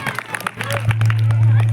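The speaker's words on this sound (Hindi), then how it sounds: "एक बार जोरदार तालियां हो जाए" Audience clapping for children at a Saraswati Shishu Mandir school annual function, crisp quick claps at first, then merging into loud sustained applause and crowd noise over a low hum.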